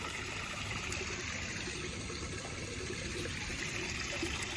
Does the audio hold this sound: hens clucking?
no